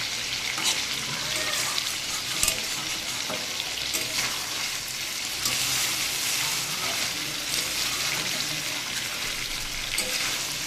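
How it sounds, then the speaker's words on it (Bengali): Water goes into a pan of hilsa fish curry with eggplant and potato, producing a steady close hissing sizzle with faint bubbling and occasional stirring. "এবার আমি ঝোলের জন্য জল দিয়ে দেবো।"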